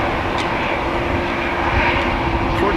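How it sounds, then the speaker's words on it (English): ITA Airways Airbus A320 on a windy day at Amsterdam Schiphol Airport, a loud, steady engine roar close by, broadband and sustained with no voices. "ITA Airways flight 121 going to Milano"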